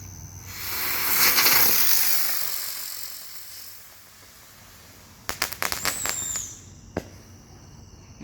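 Red Lantern Buzzard Bomb helicopter fireworks, a whooshing, whistling hiss that swells and fades before a quick run of sharp crackling pops and one last bang, heard outdoors from close range without talking.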